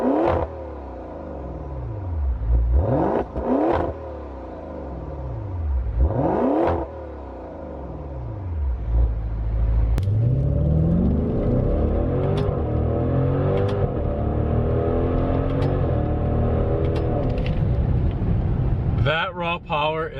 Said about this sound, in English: I'm gonna give you guys some blips from the exhaust.